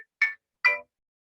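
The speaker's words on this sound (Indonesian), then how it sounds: "terdengar suara handphone berbunyi" A mobile phone ringtone plays two short, bright electronic bursts close by, alone in a quiet room within a healthcare training roleplay.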